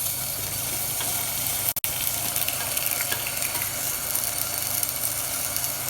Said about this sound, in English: we're going to add into our pan 50 grams of butter, and we're going to let that melt slowly